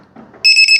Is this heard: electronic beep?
yes